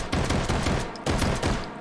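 Luger P08 pistol fitted with a stock fired in the VR game H3VR, a few sharp shots close and loud with brief decays between them.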